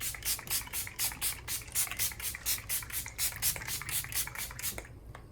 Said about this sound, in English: I'm gonna go in again with the setting spray. I'm using the Hangover 3-in-1 setting spray.